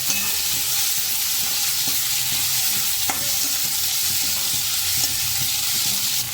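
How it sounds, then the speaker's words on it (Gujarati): Sliced onions fry and sizzle steadily in a pan for khari bhat, a constant broadband hiss with occasional soft stirring knocks, close and alone without voices. "કાંદાને સરસ રીતે પાકવા દેશું"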